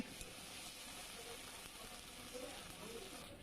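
Ginger and garlic fry in a pan while being stirred, a soft, steady sizzle with faint scraping, quiet and close.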